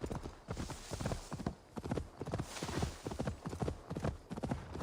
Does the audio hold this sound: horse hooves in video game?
yes